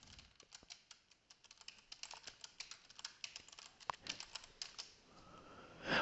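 Rapid, irregular keystrokes on a computer keyboard as a question is typed into a spreadsheet, a steady close clatter of clicks with no voices.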